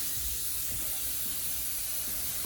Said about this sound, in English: So I'm gonna let that vent, that steam.